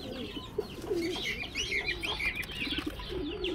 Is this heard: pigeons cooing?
yes